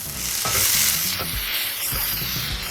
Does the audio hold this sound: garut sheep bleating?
no